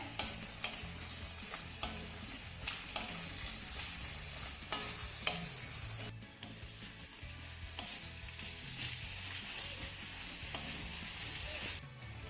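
Chopped onion sautéing with garlic, ginger and green chilli for a restaurant-style master gravy, a steady close sizzle with intermittent scraping stirs and clicks of a spoon against the pan, no voices.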